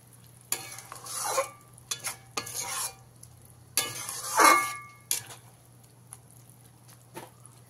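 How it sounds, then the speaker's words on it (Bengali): Fried okra stirred into a yogurt gravy for dahi bhindi masala, with a spoon scraping the pan in several short bursts and a soft sizzle between them, close by, with no voices. "ঢ্যাঁড়সগুলো দিয়ে খুব ভালো করে মিশিয়ে নিতে হবে।"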